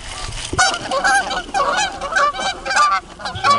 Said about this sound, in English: Little geese.